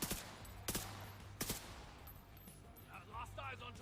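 Gunfire with incendiary rounds in the video game The Division 2, heard as a few sharp bursts of shots early on, followed by quieter game ambience.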